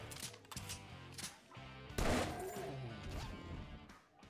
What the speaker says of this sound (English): Machine guns are devastating ranged weapons that offer high rates of fire, large magazine capacities, and moderate range and damage.